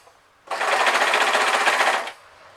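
A sewing machine stitches fleece in one rapid, buzzing mechanical run of about a second and a half, loud and close, set between quiet pauses.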